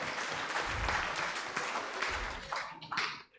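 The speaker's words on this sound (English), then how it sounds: "let's give them a round of applause for sticking to time" A room full of people applauds at a political party debate, brisk close clapping that holds steady for a few seconds before tapering off abruptly.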